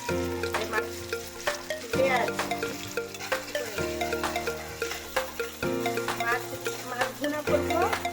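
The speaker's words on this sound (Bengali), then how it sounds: "এখানে মাছ ভাজির তেল দিয়ে মাছ ভাজি করে নিচ্ছি" Tilapia fish fry in oil in a pan, a steady sizzle with occasional stirring and clinks, heard close beneath sustained background music.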